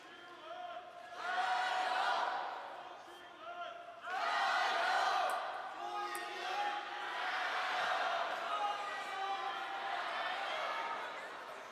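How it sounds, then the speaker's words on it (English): A stadium crowd at the 2017 Women's World Cup table tennis final between Zhu Yuling and Liu Shiwen swells into two loud waves of cheering, then keeps up a lively roar beneath a commentator's voice. "Crowd getting a bit excited about their player."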